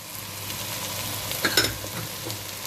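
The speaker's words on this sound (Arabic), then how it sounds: "بفضل اشوح في الرز كده شويه" Rice with carrot, tomato and spices such as salt, paprika, black pepper, cumin, coriander and ginger being stirred in a hot pot, a close continuous sizzle with a couple of brief scraping clinks, no talking.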